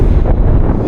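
Strong cold wind buffets the microphone outdoors in Bishkek, making a loud, continuous low rumble and roar with no voices.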